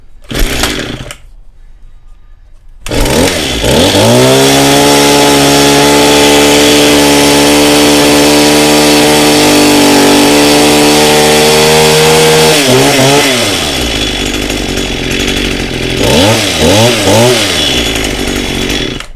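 Echo SRM-2100SB string trimmer engine with a newly replaced carburetor, idling with a faint pull start, then revving and holding a loud, steady two-stroke whine near the mic, and finally blipping the throttle up and down in several short bursts.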